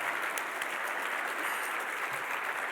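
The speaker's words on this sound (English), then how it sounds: "So let's give them a round of applause." Steady, dense applause from a crowd, loud and continuous without a break.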